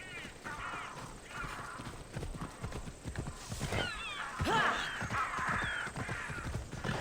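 A horse in Assassin's Creed Odyssey, set in ancient Greece, clip-clops along with a whinny partway through, joined by bird caws and occasional speech over moderately loud game audio.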